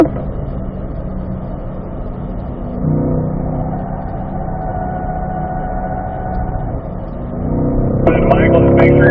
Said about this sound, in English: We're going down to second there, so we're hitting that rev limiter